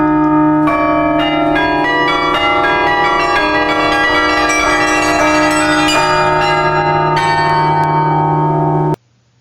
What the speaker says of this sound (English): that lovely Bach toccata, being played on a series of bells using a keyboard